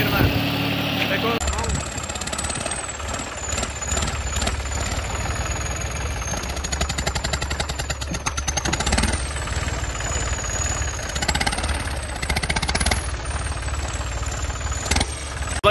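A modified King Kong 150 HP tractor engine runs hard at full RPM in top gear, a loud continuous rumbling roar with rapid knocking throughout, and voices talk over it.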